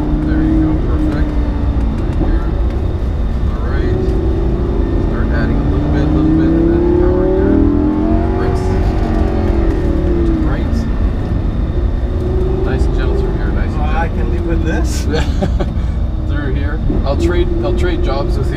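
The engine of a Lamborghini rises and falls as the car accelerates under a driving instructor, a loud continuous drone with shifting pitch throughout and voices talking over it.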